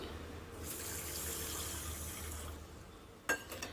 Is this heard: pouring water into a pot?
yes